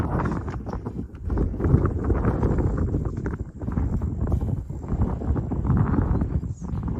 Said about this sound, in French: le vent souffle très fort